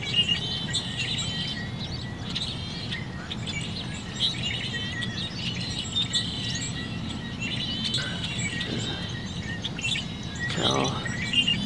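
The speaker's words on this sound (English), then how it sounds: "We've got yellow-headed blackbirds." Yellow-headed blackbirds sing in open desert scrubland near a cow pasture, a steady chorus of chirps and buzzy calls at mid distance with faint insect-like trilling underneath and no talking.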